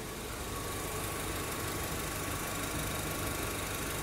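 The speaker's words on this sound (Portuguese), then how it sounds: "Ó, acabou de ligar o eletroventilador." Under the hood of an idling Honda Civic, the electric radiator cooling fans run with a loud, constant whooshing roar over the engine's steady hum.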